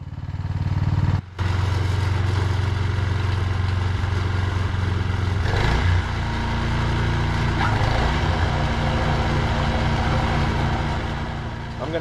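A John Deere snow blower with a Briggs and Stratton engine runs steadily and loudly nearby with a droning, slightly rough tone and a brief cut-out early on, while a voice speaks faintly under the engine.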